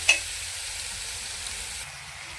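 Spinach hissing and sizzling in a hot pan as it is stir-fried, a soft steady crackle after a brief clatter at the start.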